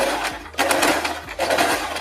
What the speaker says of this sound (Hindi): देखिए पट्टी से थोड़ा सा नीचे तक मैंने सिलाई लगाई है